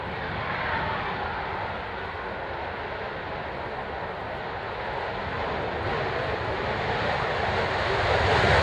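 Display aircraft Griffin taking off, a broad, loud engine roar that stays steady and slowly swells toward the end, with no voices over it.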